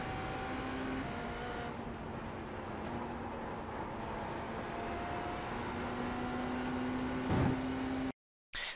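GTP prototype race car at full speed in the iRacing sim, a steady engine drone with held tonal notes shifting as gears change, running continuously before cutting briefly to silence at the end.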